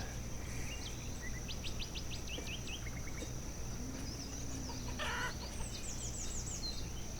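Chickens cluck and chirp in the city-building video game Banished, soft scattered calls over a steady low ambient hum, with no talk.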